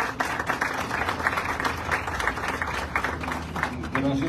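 A crowd claps at a Costa Rican government event for the Tiribí diversion water project, a dense steady wash of hand claps lasting the whole stretch with a faint murmur of voices underneath.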